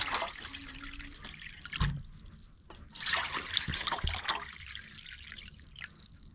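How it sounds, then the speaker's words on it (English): Water poured from a jug into cat water bowls indoors, irregular splashing and dripping bursts with short pauses between pours, close and fairly loud. "So let's fill up all these waters."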